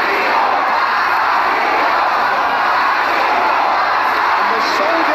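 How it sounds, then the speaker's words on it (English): A sold-out arena crowd in Jakarta at a ONE Championship fight chants and roars steadily for Joshua Pacio, a dense, continuous wall of voices that stays loud throughout. "the sold-out crowd here in Jakarta are chanting for Joshua Pacio"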